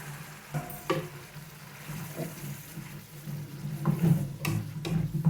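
Ponnaganti leaf curry with sesame and cashew paste cooking in a pan, giving a steady soft sizzle with occasional stirring scrapes and clinks, close and without talk.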